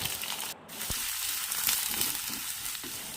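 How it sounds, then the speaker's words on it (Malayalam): Sliced onion sautéing in a clay pot for a squid curry: a steady, close frying sizzle with soft stirring scrapes and a couple of brief knocks, no voices. "ഈ സവാള ഒന്ന് വഴന്ന് വരുന്നത് വരെ നമ്മളിതുപോലെ ഇളക്കി കൊടുക്കുകയാണ്"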